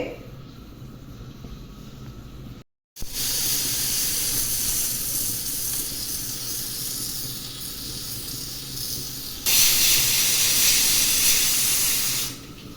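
A loud, continuous steam hiss from a pressure cooker whistling while cooking pongal, briefly cut off, then resuming and growing sharper before stopping abruptly.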